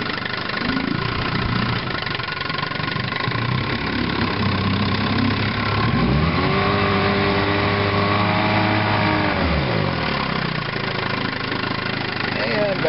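A 1958 Evinrude Sportwin 10 hp outboard motor runs in reverse, a steady close engine drone that dips and rises in pitch as it shifts, with someone talking over it.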